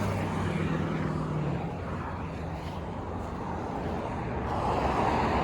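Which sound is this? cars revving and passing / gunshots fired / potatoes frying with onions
cars revving and passing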